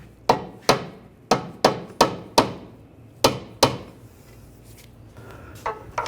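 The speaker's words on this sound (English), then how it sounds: "Just use a rubber mallet, get it lined up in the right spot." A rubber mallet taps a front lower control arm on a 2011-2017 Nissan Juke into place, giving about nine sharp, close knocks in quick bursts before a few faint clanks.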